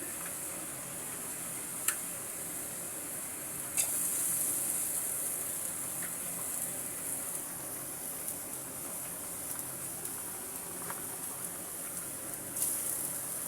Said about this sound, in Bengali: দিয়ে দিচ্ছি রসুন কুচি, এবার দিয়ে দেব পেঁয়াজ কুচি